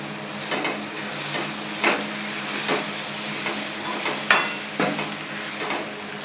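Poha is stirred in a pan over a soft sizzle, with a utensil scraping and clinking against the pan in several distinct strokes, close and without speech.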